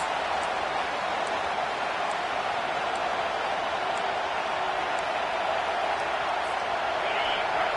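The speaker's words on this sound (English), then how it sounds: "Listen to this crowd just shaking the girders of this place, trying to help their defense" A packed college football stadium crowd roars continuously, a dense, steady wash of noise from a large distance that holds at an even level throughout.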